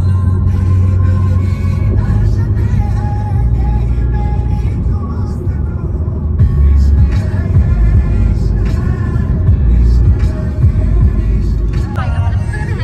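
A car moves through congested traffic on a road in Karjat, with a steady low engine and road rumble throughout and occasional louder swells, heard from inside the vehicle.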